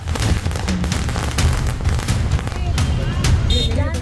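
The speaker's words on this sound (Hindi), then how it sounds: "सड़कों पर फूटती पटाखों की ये लड़ियां," Rapid strings of firecrackers crackle and pop in dense bursts on a street, mixed with a loud, busy celebrating crowd.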